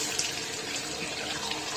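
Hot water pours steadily from a faucet in a gutted apartment, a continuous close hiss of running water filling a sink with no voices over it.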